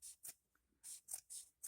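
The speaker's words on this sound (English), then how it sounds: "So now I'm going to take my scissors." Quiet, close snips of scissors trimming material for a floating teacup Christmas decoration, five or six short crisp strokes in an uneven rhythm with no talking.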